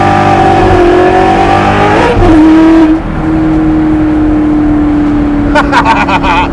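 A Coyote-powered widebody Foxbody Mustang pro-touring build revs hard and loud up close, engine note rising then settling into a steady drone, with a voice talking over it and brief clatter near the end.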